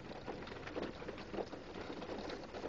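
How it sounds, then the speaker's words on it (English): Heavy tropical storm rain pours down in Barbados, a steady dense hiss of drops on surfaces that holds continuously and fairly close throughout, with no talking over it. "Look at all this rain"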